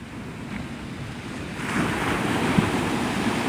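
Ocean surf rolling onto Navarre Beach, Florida at sunrise, a steady broad wash of breaking waves with wind noise, swelling louder midway with a brief crash near the end; no voices.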